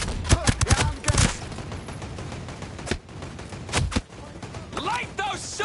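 Rapid bursts of gunfire from the video game Ghost Recon Breakpoint on PS5 crack out in clustered volleys with short gaps between them, loud and close, with a few brief shouted voices mixed in.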